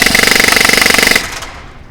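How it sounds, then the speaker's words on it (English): G&G Fire Hawk airsoft gun firing a fast full-auto burst for about a second, a loud, close, rapid mechanical rattle that stops abruptly and leaves a short fading echo in an indoor setting. "let me show you the rate of fire right now"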